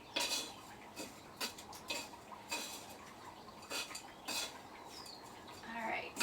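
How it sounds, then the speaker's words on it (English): Cactus soil mix being stirred into old potting soil in a container, heard as a series of close, dry scraping and rustling scoops with short pauses between them. "So I'm going to just mix my soil up with the original soil that"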